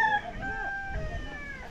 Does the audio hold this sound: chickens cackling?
yes